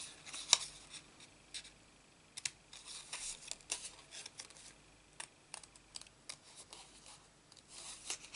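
Scissors cutting out a stamped paper flower image for a Christmas card: close, quiet crisp snips and paper rustles in an irregular, steady series with no talking.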